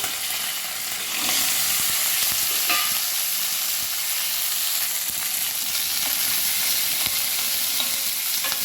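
Curry leaves, small shallots and green chilies sizzle steadily in a hot pan, with close stirring scrapes and crackles sounding continuously and fairly loud, no voices.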